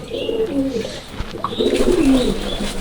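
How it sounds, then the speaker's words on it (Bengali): Several pigeons coo close by, low rolling calls overlapping in two bursts with a brief quieter gap between, over a faint background hum. "এটা আমার কবুতর গুলো মনে করেন পাগল হয়ে গেছে"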